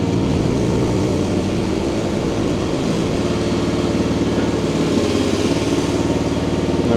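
A Crytec CREX6-M mini excavator's engine runs loud and continuous as the machine slews around, holding a steady rumbling drone that settles into an even idle-like tone partway through, with no talking.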